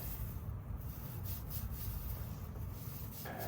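A brush scrubs a motorcycle wheel coated in wheel cleaner, giving a soft, continuous, close rubbing sound at low volume with no voices.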